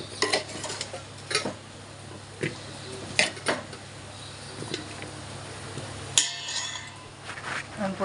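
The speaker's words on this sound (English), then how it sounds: "Now we will put the mangoes in the vessel." Mango pieces for an Andhra-style avakkai pickle dropping into a metal vessel in sharp clattering knocks and clinks at irregular intervals, close up, over a low background hum.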